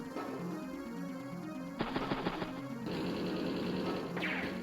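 Tanks clash in the video game Advance Wars: Days of Ruin: rapid bursts of game gunfire and explosive impacts rattle over looping background music, growing denser midway and ending with a swishing flourish.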